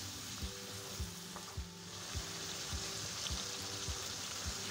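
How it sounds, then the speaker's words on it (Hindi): Spice masala for badami korma frying in oil in a pan, a continuous close hiss of sizzling with soft regular knocks of stirring about every half second, quiet and without voices. "थोड़ा मिक्स करेंगे और इसको अच्छे से भूनेंगे मसाले को। बस 1 मिनट इसको और भूनेंगे।"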